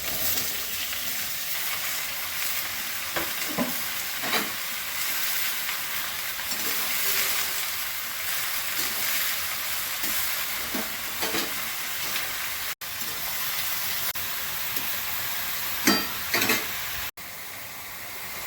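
Bottle gourd with prawns stir-fries in a pan, giving a steady, loud sizzle with occasional scraping stirs and spatula clinks throughout.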